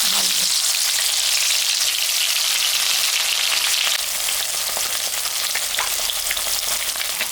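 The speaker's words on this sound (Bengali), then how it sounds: "এখন মাছটা ভাজবো।" Katla fish, salted and coated with turmeric, frying in hot oil in a wok, a loud and steady sizzle and crackle that runs the whole time and eases slightly partway through, with no voices.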